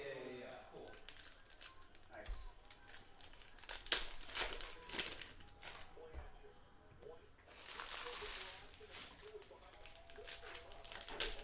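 2020 Panini Prizm football hobby card packs are torn open, with crinkling foil wrappers and ripping in bursts, close and fairly quiet, while people talk in the background.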